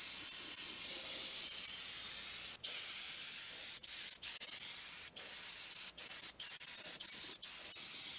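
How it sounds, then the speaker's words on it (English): Spray paint hissing from an aerosol can onto a Super Buu figure, long continuous bursts broken by several short pauses, close and steady with no talk. "First, I'll spray downward onto it."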